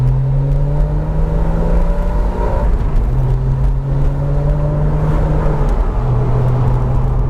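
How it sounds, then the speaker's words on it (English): Porsche Boxster S 986 convertible flat-six engine droning steadily while driving, with rising and falling engine tones across gear changes, close and loud with wind and road noise underneath, no talking. "you get to experience the noise from the car"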